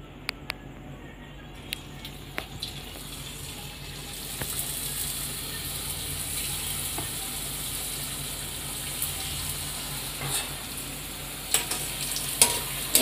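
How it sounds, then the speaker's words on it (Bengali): Phuchka (pani puri) dough puffs drop into a generous amount of hot oil and fry together, a steady broad sizzle with occasional clicks and scrapes from stirring, building slightly louder toward the end. "আমি এবার এগুলোকে একসাথে তেলে ছেড়ে দেবো।"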